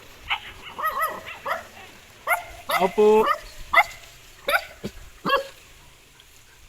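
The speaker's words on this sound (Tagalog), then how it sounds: "Daming aso." Several dogs bark in a row, sharp yaps and yips arriving in irregular bursts close by, mixed with short spoken words from people nearby.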